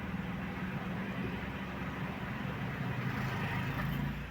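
A car engine idles steadily after starting, check engine light still on, giving a quiet, even low rumble with no gaps.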